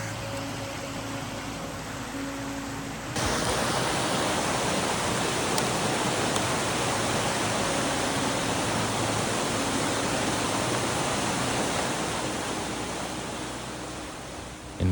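A tiny creek in Michigan trout country runs over swirling pools and stiller water, a constant close, full rushing babble of flowing water throughout.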